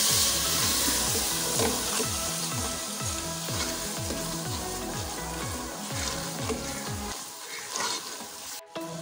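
Ground spices for egg curry sizzle and fry in a pan while a spoon stirs in steady scraping strokes, the frying hiss continuing after the stirring stops; no talking.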